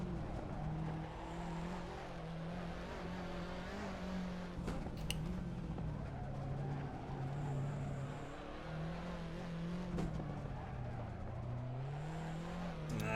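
A race car in a racing video game set at the Lausitzring brakes and skids, its engine note rising and falling steadily along with tire noise, with no talk over it.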